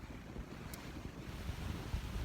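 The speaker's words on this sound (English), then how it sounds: "Very windy, heavy rain, really poor visibility." Strong wind and heavy rain in awful outdoor conditions with poor visibility, heard as a steady, fairly quiet rushing roar of gusts and spray with no voices.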